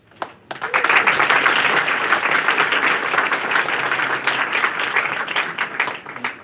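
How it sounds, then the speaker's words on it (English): An audience at a moot court competition round gives the host a sustained burst of applause, dense and loud, lasting several seconds before it thins out. "And a round of applause for our host."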